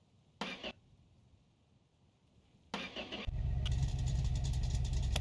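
A car engine starting in the My Garage game: two short cranking bursts separated by a pause, then the engine catches and settles into a steady, loud idle.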